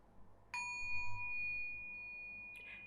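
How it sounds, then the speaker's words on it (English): A mindfulness bell is struck once, its clear ringing tone sustaining and slowly decaying over a quiet background, with a faint second touch near the end. "And now with the bell being rung, you come back to the moment where you practice listening, deep listening, being present."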